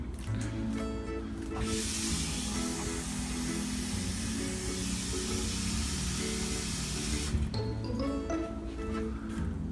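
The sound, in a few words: filling a container with tap water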